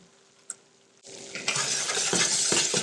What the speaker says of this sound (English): And stir that into your roux.